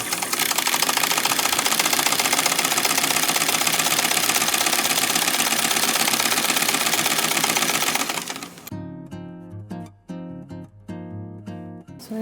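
A sewing machine stitches a quilt block, running in a fast, loud, steady mechanical chatter for about eight seconds, then stopping, followed by several sharp clicks and taps close by.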